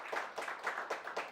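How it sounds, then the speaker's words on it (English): Applause for a presenter at a satellite workshop, thin and brief, with about five distinct bursts of clapping from a small group in a quick, uneven rhythm. "let's give Daniela a big applause"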